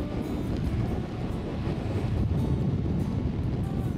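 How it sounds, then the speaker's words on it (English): Strong wind buffets a Dartmoor hilltop, a loud, continuous rushing roar with heavy gusting noise striking the microphone and no voices. "A bit blowy up here"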